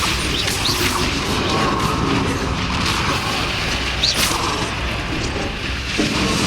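Bombarda blasting spell explosions in the Hogwarts Legacy video game, loud dense crashing booms and impacts layered over continuous combat noise.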